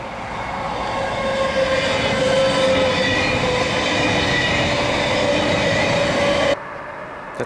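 A train rumbles past nearby, a loud, steady roar with a faint metallic squeal that cuts off abruptly near the end.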